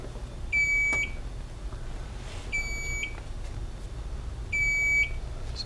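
A fire alarm panel, heard during fire alarm training, gives three evenly spaced, steady electronic beeps, each about half a second long, over a constant low background hum.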